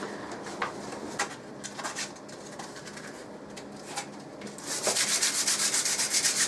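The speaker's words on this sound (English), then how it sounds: "Just scuffing up the surface." A degreased surface being scuffed by hand in preparation for paint, with soft, quiet rubbing strokes in an irregular rhythm, a few sharper scrapes among them, and a louder, steadier abrasive hiss in the last couple of seconds.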